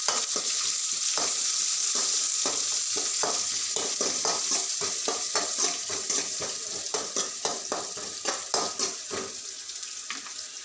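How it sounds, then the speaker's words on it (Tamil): Onions sizzle in a hot pan over medium flame while a spatula scrapes and stirs in repeated strokes that grow quicker and more distinct toward the end. "வெங்காயம் நல்லா வதங்கணும்"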